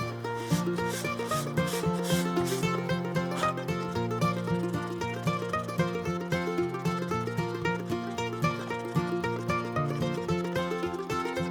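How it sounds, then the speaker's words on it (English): A wooden Remington 721 rifle stock is sanded by hand in quick, regular rubbing strokes that repeat steadily, with music playing loudly over the scratching. "right now we're getting into the sanding process"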